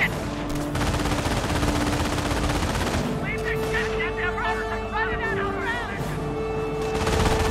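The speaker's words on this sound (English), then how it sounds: "Base is taking fire" Sustained gunfire and machine-gun bursts in a Company of Heroes battle as a base comes under attack, loud and continuous, with shouted voices and radio chatter over the shooting.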